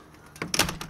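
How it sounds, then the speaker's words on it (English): A room door is pushed shut with a short, close thump and a brief rattle, loud against a quiet background with no talking. "I'll just shut this door a second."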